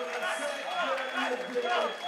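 Arena crowd at a League of Legends World Championship group-stage match between paiN Gaming and Counterlogic Gaming, a steady roar of cheering and chatter throughout under a commentator's voice.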